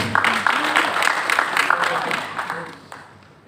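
Applause at a chamber of commerce meeting in Pariaman for the Kadin chairman: a short burst of close clapping from a modest audience, fading out after about three seconds, with talk underneath.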